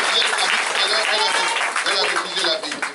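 A church congregation at a Sunday thanksgiving service applauds for Jesus, a steady loud wash of clapping and crowd noise mixed with voices throughout.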